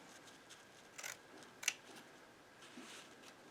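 Scissors snip through fabric while trimming a draped sloper, a few faint, quiet cuts with one sharper snip in the middle, close and alone.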